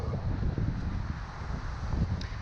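Wind gusting across an open field on a blustery day, a continuous low rumbling roar with steady buffeting against the microphone and no talking.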